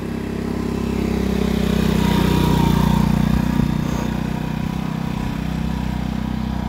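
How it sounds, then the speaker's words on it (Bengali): A motorcycle engine strains steadily as the bike climbs a steep slope at the Bongaigaon view point. A loud, continuous low drone builds in the first second and holds for the rest of the clip. "এই বাইক কিন্তু পুরা সাউন্ড দেখিয়ে বাইক নিয়ে পুরা উঠতেছে"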